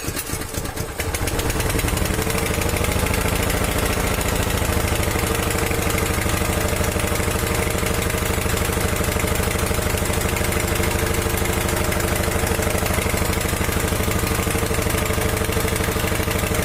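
A Chinese water pump engine idles after starting, a loud, steady mechanical chug close by, running evenly and unbroken to the end.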